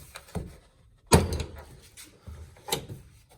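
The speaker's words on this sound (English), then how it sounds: "What I like to do is kind of push in on the door a little bit, just kind of take some of that pressure off" Soft upper door on a Honda Pioneer 1000 side-by-side being opened: a sharp latch clunk and rustle of fabric, preceded by a faint knock and followed by another softer thump, close by.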